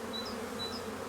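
A continuous low hum of honey bees around an open hive, with two short higher whines of bees flying past close by, steady and moderately faint.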